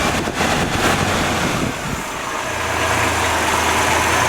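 Engine on a vintage car hooked to a Sun Modular Engine Analyzer 1500 drops from a fast high idle to a low, steady idle, loud and close, with a deep rumble settling in after the change.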